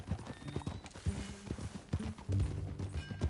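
Horse hooves clip-clopping in the game Red Dead Redemption 2, a brisk, uneven trotting rhythm close by, with no talk over it.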